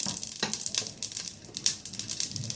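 A spoonful each of butter and ghee melts in a pan for cooking rabbit, giving a steady close sizzle and soft crackle with scattered brighter pops throughout.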